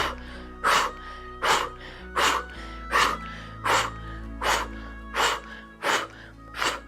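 Forceful exhales blown out through the mouth during beginner morning yoga breathing, about ten sharp rhythmic bursts roughly every half second to second, close and loud with no talking.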